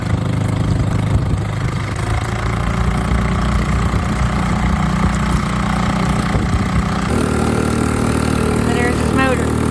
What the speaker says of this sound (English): it does get a little loud at higher speeds for being such a small motor